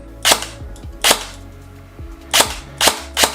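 A Falkor Defense AR15 Ambi Gold SBR airsoft rifle (APS/EMG) with an electronic trigger fires five sharp, close, snapping shots at an uneven pace. Faint softer clicks fall between some of them.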